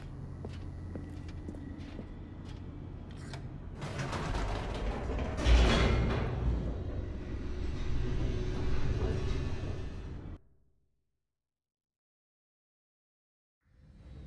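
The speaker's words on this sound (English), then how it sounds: "The elevator raced downward" In a video game, an elevator plunges downward with a mechanical rumble and creaking, ratcheting clanks that swell into a loud rushing roar, then cut off abruptly into silence before a faint sound returns at the end.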